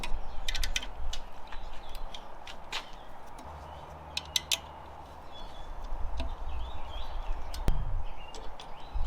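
An Allen key clicks and ratchets in short bursts while the side brackets of Light Fox 9-inch driving spotlights are tightened on a bar, over steady outdoor background noise with faint birdsong.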